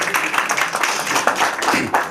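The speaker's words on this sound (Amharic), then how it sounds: "ለራሳችሁ ቆይ አጨብጭቡ" An audience at an awards ceremony at the Sheraton Addis claps in a steady patter of many hands, moderately loud and continuous throughout, with no talk heard over it.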